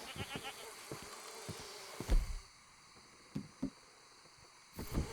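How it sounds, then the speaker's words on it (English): A goat in the video game Red Dead Redemption II bleats in short, separate bursts over quiet game ambience, with a few thuds and rustles between the calls. "Are you somebody's goat?"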